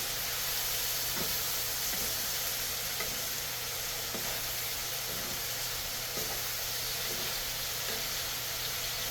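Bitter gourd and egg stir-frying in a pan over high heat, a steady loud sizzle and hiss throughout with occasional soft scrapes of stirring, no one speaking.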